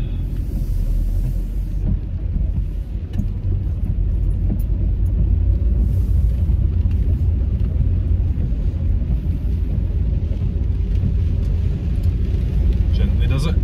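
Car driving on a road in pouring rain, a steady low engine and tyre rumble filling the cabin, with a soft hiss of rain and water spray laid over the drone and no clear talk.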